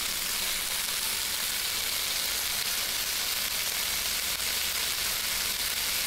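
A salmon fillet frying in a pan in the game Cooking Simulator, a steady, even hiss of sizzling oil that holds constant throughout and stays alone without talk.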